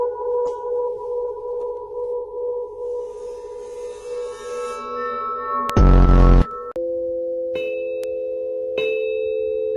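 A gong rings with sustained, shimmering tones that slowly fade, broken midway by a loud crashing strike, followed by further ringing hits, with no voices.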